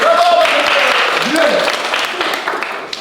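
Applause during a live Twitch stream, a continuous broad clapping texture that gradually thins toward the end, with voices faintly underneath.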